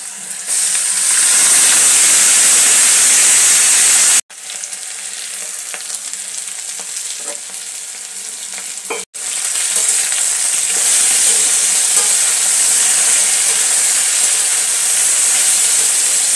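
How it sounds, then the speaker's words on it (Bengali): Thinly cut potatoes frying in hot oil after a black cumin tempering, a loud steady sizzle and hiss close up, with two brief breaks before the crackle resumes. "এখন আমি আলু ভাজা বানিয়ে নেব"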